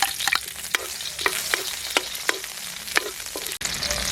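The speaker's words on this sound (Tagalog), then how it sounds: "Umpisa na natin mga kagutom sa paggisa." Onion and garlic sauté in a pan with a strong, close sizzle, punctuated by regular sharp taps and scrapes of a spatula stirring roughly twice a second.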